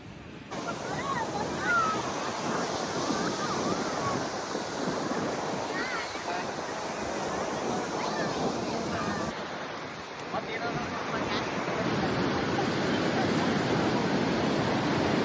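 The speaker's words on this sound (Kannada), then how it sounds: "ನಾವು ಇಲ್ಲಿ ಬೀಚಿಗೆ ಬಂದು ಅಲೆಗಳ ಜೊತೆ ಆಟ ಆಡಿದ್ವಿ" Ocean waves breaking on Padubidri beach, a loud continuous roar of surf with heavy wind buffeting the microphone, close and steady throughout.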